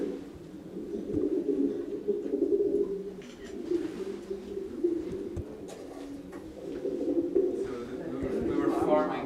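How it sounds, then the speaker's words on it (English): Doves coo steadily from terracotta-tile nesting boxes inside an old dovecot, a low continuous murmur of overlapping calls with people talking quietly nearby. "Only for these birds, doves."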